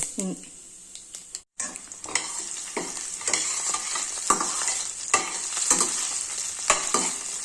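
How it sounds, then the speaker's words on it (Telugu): Tempering spices for Kerala-style coconut sambar sizzle and crackle in hot oil with steady hissing, broken by sharp clinks and stirring scrapes of a utensil against the pan. "ముందుగా పోపు దినుసులు వేసుకోవాలండి"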